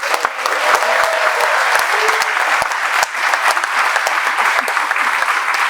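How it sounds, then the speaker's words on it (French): An audience claps together at a lively French show about Mulhouse, a dense, loud and steady round of applause with sharp individual claps standing out throughout. "On va faire un applaudissement."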